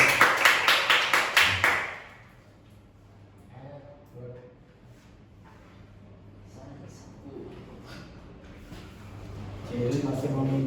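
Students in a junior high school math classroom clap together in a brief, loud burst of rhythmic applause lasting about two seconds, followed by quieter room noise and murmured talk.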